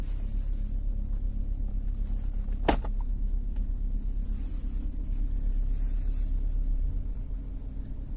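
A 2018 Porsche Cayenne's gear selector is moved into reverse, giving one sharp click over the steady low rumble of the idling engine heard from inside the cabin.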